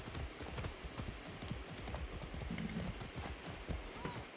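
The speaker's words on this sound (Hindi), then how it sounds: "यार घोड़े चलाने के फायदे अपने हैं" Horse hooves clip-clopping in the video game Far Cry 6, a quick, steady run of soft thuds under constant game ambience and a faint high whine.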